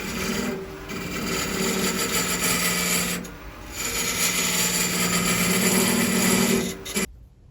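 A wood lathe cuts a shoulder on a turned ring for a ball and vase illusion piece, giving a steady rasping, scraping hiss with a low hum underneath that runs in long passes, dips briefly twice, then stops abruptly near the end.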